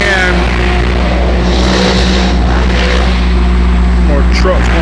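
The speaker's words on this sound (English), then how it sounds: "more trucks going down the highway" Trucks roll down Highway 72 between Chester and Whitmire, making a loud, steady close-up roar and rumble that holds throughout with no break.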